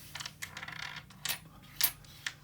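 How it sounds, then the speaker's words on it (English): Three white dice rolled during a solo tabletop wargame clatter in a few sharp, close rattling bursts and taps, with quiet gaps between the hits and no talking. "I'm rolling 3 white dice."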